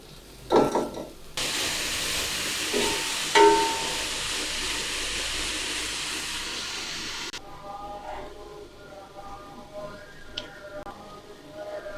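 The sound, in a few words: onion frying with okra in pan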